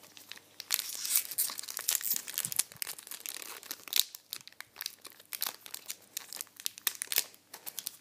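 Close, crisp crinkling and tearing of a foil trading card booster pack wrapper, in irregular bursts of rustling with short pauses between.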